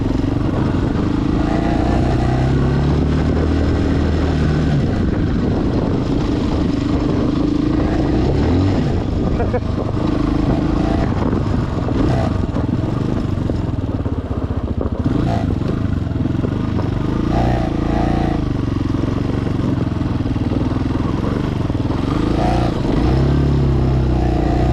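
Chinese dual sport motorcycle ridden slowly through snow, its engine droning steadily up close with some clatter and wind rush, while a rider talks over it now and then.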